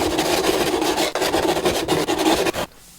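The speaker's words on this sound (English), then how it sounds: "I'm going to use a file just to scuff up as much best I can around the edge" A hand file rasps steadily against the edge of a hole in a model aircraft fuselage for close to three seconds, scraping in quick repeated strokes before stopping abruptly into near silence.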